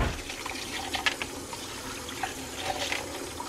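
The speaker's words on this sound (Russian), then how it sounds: "Хорошо промыла маш в холодной воде." Boiled mung beans are rinsed under cold running water, a quiet, continuous trickle and slosh with a few brighter splashes, heard alone without speech.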